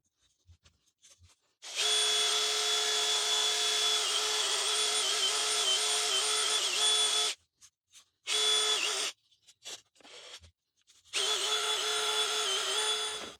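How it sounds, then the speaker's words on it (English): A DeWalt electric drill whirs steadily for several seconds, spinning sandpaper inside a carbon fiber tube with a high rasping sanding sound, stops, then spins up again in shorter bursts. "I can use an electric drill, put the sandpaper through the tube and just spin it up"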